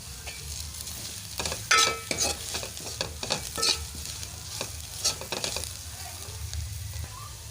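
Onions and turmeric sizzle in hot oil in a pan for a sardine fish curry, with irregular scraping stirs and clinks of a spoon breaking through a steady crackle, close and moderately loud.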